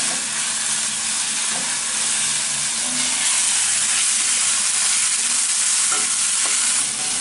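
Ginger garlic paste frying in a pan for a chicken fry sizzles and hisses steadily, close and loud, with occasional stirring scrapes and no voices.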